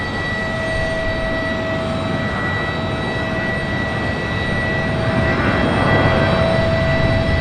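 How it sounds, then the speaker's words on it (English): Jet engines idle and whine near Raleigh Durham International at sunrise, likely from a C-17 military transport, a steady loud roar with high tonal whines, swelling slightly toward the end. "But I am more interested in the C-17"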